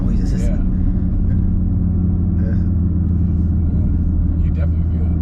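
A modified Audi RS3 with solid engine mounts gives a steady, deep engine rumble while driving, continuous throughout, with people talking over it.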